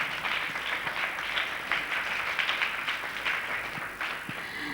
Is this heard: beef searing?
no